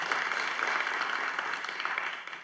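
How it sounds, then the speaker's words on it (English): Audience applause at the closing of a quantum technology conference, a steady wash of many hands clapping from a sizable crowd, even and sustained, tapering slightly at the end. "First, can we have a big round of applause for Yasmin?"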